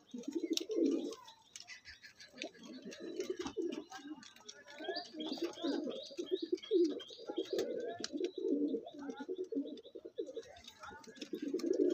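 Andhra Pradesh pigeons giving repeated soft, throaty coos close by, overlapping in uneven bursts, with faint chirps and light clicking in the background.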